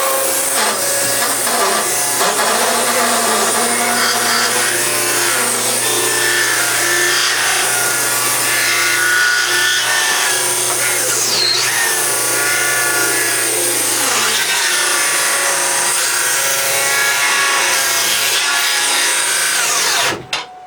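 Table saw ripping through wood, pushed through quickly, so the blade bogs down slightly under load; a loud, continuous cutting whine and rubbing drone lasts about twenty seconds before stopping abruptly.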